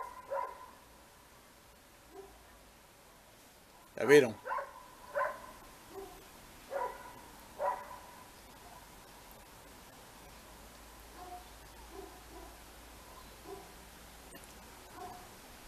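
A neighbourhood dog barks repeatedly: a loud burst of barks mid-clip, then a string of fainter, spaced-out barks from some distance, with a brief spoken remark near the start.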